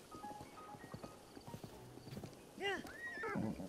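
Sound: horse neighing and clip-clopping in Zelda: Breath of the Wild video game

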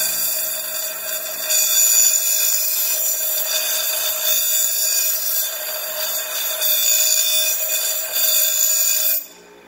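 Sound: bench grinder grinding metal

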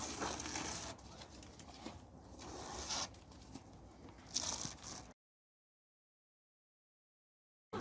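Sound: tape being peeled off

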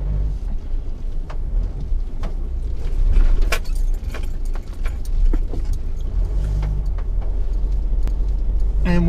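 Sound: 4x4 vehicle driving off-road around an obstacle

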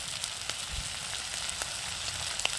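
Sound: crabs frying in oil

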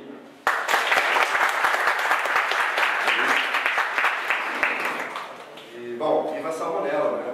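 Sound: applause

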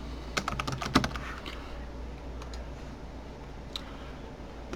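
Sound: typing a search on a computer keyboard

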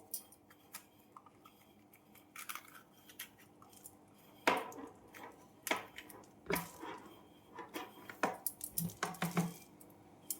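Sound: cutting bell peppers and removing seeds

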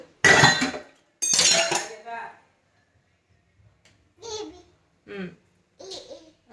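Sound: washing dishes at sink

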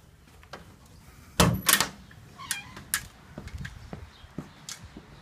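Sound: door being opened to go outside

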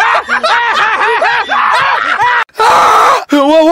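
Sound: person screaming

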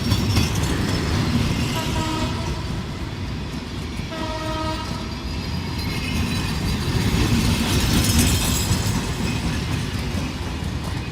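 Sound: Modhumoti Express train passing through a railway station

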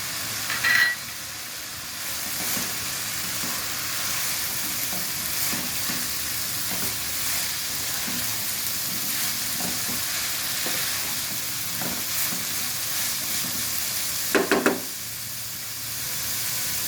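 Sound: green chillies frying in a pan

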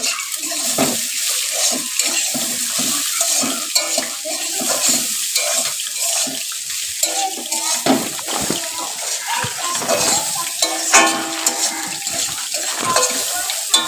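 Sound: fish frying in a pan

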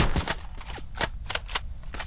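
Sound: gunfire in a shooter video game

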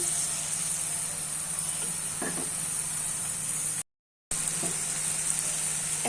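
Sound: spice paste (masala) sizzling while being sautéed in oil for egg curry

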